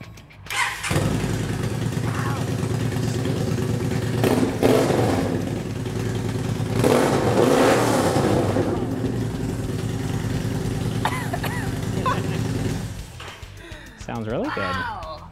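A motorcycle engine fitted with a new tuner starts up and runs at a loud, close rumbling idle, with a few revs building and easing. People talk over it and react near the end.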